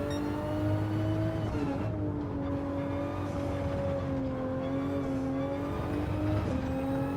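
Toyota Supra race car in a racing video game at Brands Hatch, its engine droning steadily with rising and falling revs through gear changes, close and continuous with no talk.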